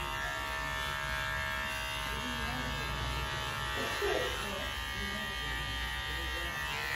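An electric hair clipper buzzes through a medium fade haircut, cutting along the side of the head, a steady close hum that grows briefly louder midway as the blades bite, while someone talks quietly over it.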